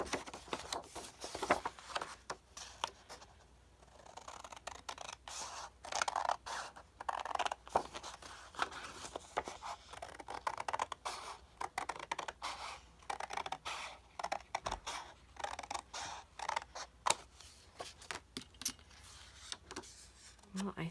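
Scissors cut through paper while a day planner is being altered, giving a close run of crisp snips and papery rustles and scrapes, some sharp clicks, continuing for about twenty seconds.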